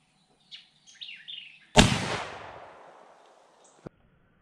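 A single loud, close gunshot from a 38-55 rifle firing a 255 grain bullet, with a long rumbling decay after the crack and a faint click a couple of seconds later; small chirps come before it.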